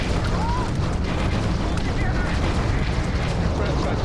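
Missile fire and explosions in the video game Starfield, a dense, loud barrage of booms and blasts rolling continuously, with a voice talking over the action.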